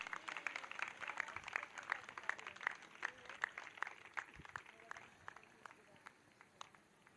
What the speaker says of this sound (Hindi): इस बात के लिए ताली बजाकर प्रभु को महिमा दें